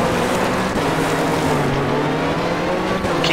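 A rally car engine held under steady throttle in Richard Burns Rally, a sustained loud droning hum with little variation, alone without talk.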